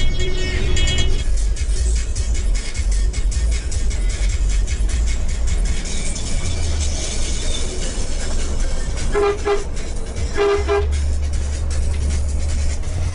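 A bus driving on a foggy mountain road from Pekanbaru to Dolok Sanggul, with a steady loud engine and road rumble throughout and several bursts of horn honking near the end.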